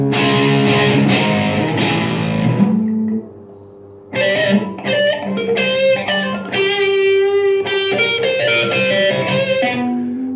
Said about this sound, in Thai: ก็ขอให้มีแค่เป็นเสียงแตกเอาแล้วกันนะฮะอันนี้มันมีทั้งครันช์ทั้งไดผมเอาครันช์อย่างเดียวแหละ